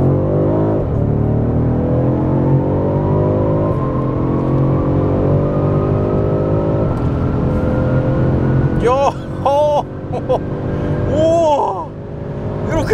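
A BMW M550i xDrive (M Performance) accelerates hard through a tunnel, its engine note climbing steadily and loud and close, with gear shifts breaking the rising drone near the end.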